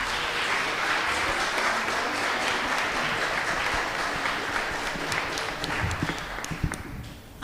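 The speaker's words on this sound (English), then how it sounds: "Round of applause." Sustained audience applause for a panel of three at a live-streamed community event, steady and dense throughout, thinning with a few distinct claps near the end.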